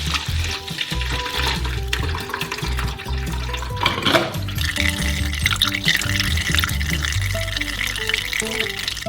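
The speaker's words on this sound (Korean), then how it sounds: "채로 걸러 양동이에 부어주세요." Liquid being poured through a strainer into a bucket while making a giant gummy worm, with orange juice in the process; a steady splashing, gurgling stream runs throughout over a constant busy wash of sound.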